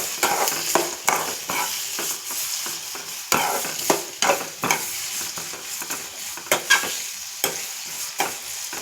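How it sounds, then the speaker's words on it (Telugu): Onions frying in a pan are stirred steadily, a spoon scraping and tapping in an irregular rhythm over a constant close sizzle, with no talking. "ఇదంతా ఒకసారి బాగా కలుపుకోవాలి."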